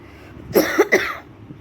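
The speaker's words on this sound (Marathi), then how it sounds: "सगळ्यांना आमच्या घरी खोकला झाला आहे" A person at home with a cough gives a short burst of three harsh coughs close to the microphone in a quiet room.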